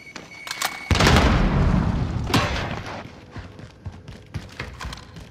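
Frag grenades go off in the shooter game Warzone, one heavy close boom followed by a lingering rumble, then a sharper blast and scattered thuds and pops of gunfire trailing off.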